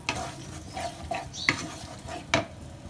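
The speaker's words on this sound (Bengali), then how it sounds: "কাজুর পেস্ট দিয়ে আমি মশলার সাথে মিশিয়ে নিই আর আরও কিছুক্ষণ কষিয়ে নিচ্ছি।" Cashew paste and spices being stirred and fried in a pan, with a soft sizzle under several scraping spoon strokes, close and fairly quiet.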